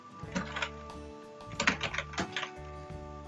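Typing on a computer keyboard while entering a name into a Microsoft Word resume, giving irregular bursts of close, crisp key clicks with short pauses between them and a low steady hum underneath, no talking.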